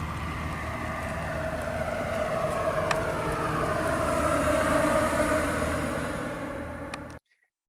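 A Tesla electric car plays its exterior pedestrian warning sound through outward-facing speakers, a steady, droning hum with a sustained tonal band that swells slightly and then cuts off abruptly after about seven seconds.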